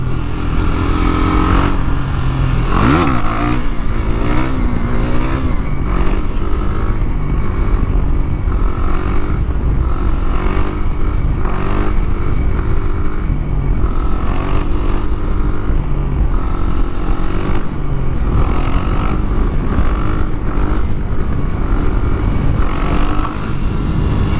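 A KTM Duke 390 motorcycle engine roars continuously and loudly throughout a wheelie ride, with rising and falling revs and wind rush, no voices.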